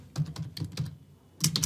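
Someone types a name on a computer keyboard in a quick run of close, crisp keystrokes, pauses briefly, then adds a few more fast taps.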